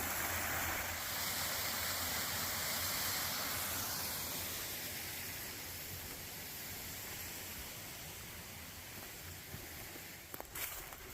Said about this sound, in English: We're going to try to cross the creek right through here